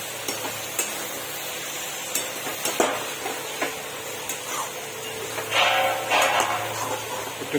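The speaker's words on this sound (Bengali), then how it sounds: "পটল আর আলুগুলো এর মধ্যে দিয়ে দেবো, একটু কষিয়ে" Potatoes and pointed gourd sauté in spice paste for a prawn curry, a steady close sizzle broken by repeated light clicks and scrapes of stirring.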